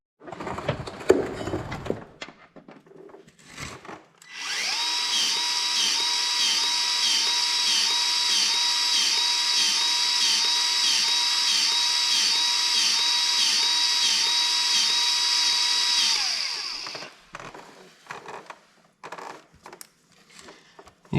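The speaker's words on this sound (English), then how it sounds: "I can kind of tell by the noise if it's building pressure or not" A grease gun pumps grease into the blade spindle of a Cub Cadet LTX 1050 riding mower deck, making a steady, loud whining, ratcheting tone that holds for about twelve seconds before stopping, with faint clicks and handling noises on either side.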